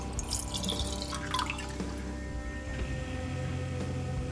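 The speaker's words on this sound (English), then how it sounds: "we'll use about 2 cups of boiling water" Boiling water poured into a metal canteen cup at a backpacking camp stove, a close, trickling pour with splashing drips, fairly quiet and steady.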